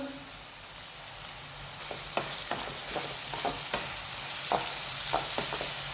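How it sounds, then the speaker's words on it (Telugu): Sliced onions with salt and curry leaves fry in a pan for a Chettinad chicken biryani, a steady close sizzle with light stirring scrapes and clicks scattered through it. "ఇప్పుడు మూత పెట్టుకొని ఎర్రగా వచ్చే వరకు వేయించుకోవాలి"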